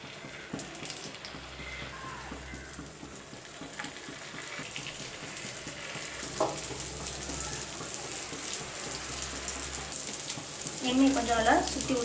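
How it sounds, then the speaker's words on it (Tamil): Oil sizzles on a hot paniyaram pan for kaara kuzhi paniyaram with a continuous crackle. Small clinks and scrapes come from the pan, and the sound grows slightly louder toward the end with no speech. "எண்ணெய் இப்போது நல்லா சூடாகிடுச்சு. நம்ம இதில் கொஞ்சம் கொஞ்சமாக ஊற்றலாம்."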